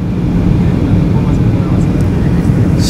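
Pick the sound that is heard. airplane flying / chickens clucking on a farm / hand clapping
airplane flying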